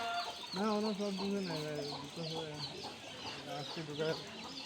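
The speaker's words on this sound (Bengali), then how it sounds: "মুরগি ঢুকছে নি সব" Chickens cluck repeatedly in short, close bursts, several birds overlapping in a busy farmyard chatter.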